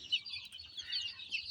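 Chickens on a poultry farm clucking and chirping in quick, overlapping bursts, fairly faint and close, with no talking.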